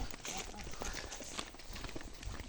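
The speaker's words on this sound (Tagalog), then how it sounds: "Kabayo. May kargang nyug. Nakabakid." Horse carrying a load of coconuts along a rural riverside trail, hooves clip-clopping faintly and unevenly, partly masked by outdoor background noise and people talking nearby.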